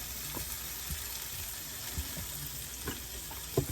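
Chopped onion cooking in butter in a hot pan, a faint steady sizzle with occasional soft pops and clicks, quiet and close with no talking.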